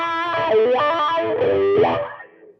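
Electric guitar run through a wah pedal and a TS9 overdrive, giving a tone of thick distorted notes with sweeping wah vowels, played loud and close, then fading out in the final moments.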